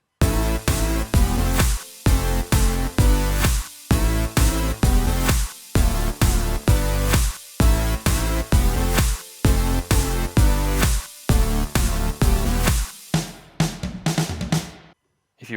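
An electronic dance drop built in GarageBand on iPad or iPhone pounds out loud chopped synth chords and heavy bass in a tight stuttering rhythm, then breaks into a brief glitchy fill at the end.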